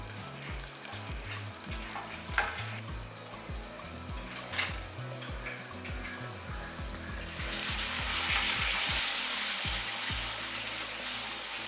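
Steady crackling sizzle of pepper papad frying in hot oil, with a few stirring scrapes, growing slightly louder and hissier toward the end.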